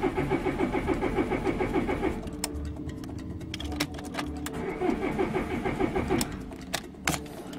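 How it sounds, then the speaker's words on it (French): A car engine cranks repeatedly without catching after the car sat unstarted overnight, a steady churning starter rhythm with a few clicks and key-like jingles near the end. "Elle ne démarre pas."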